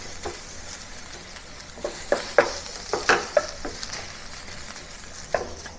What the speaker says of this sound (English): stir fry the meat until it is fully cooked and the color slightly turns to light brown